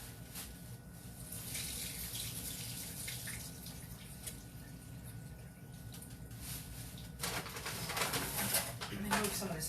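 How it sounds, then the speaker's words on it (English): Water running and splashing in a kitchen sink as washed vegetables are drained, a steady close wash of sound with louder gushing bursts toward the end. "Let me drain off the water."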